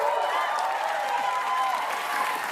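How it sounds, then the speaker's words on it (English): An audience applauds for open mics at a comedy talk, a dense, continuous wash of clapping with some crowd noise, steady and fairly loud throughout. "First ever round of applause for open mics."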